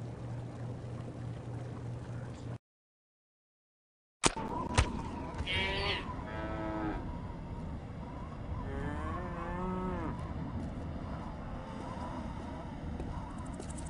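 Cattle moo repeatedly in the 2004–2005 PC game Postal 2 Apocalypse Weekend, several drawn-out lowing calls over steady background noise after a brief silence.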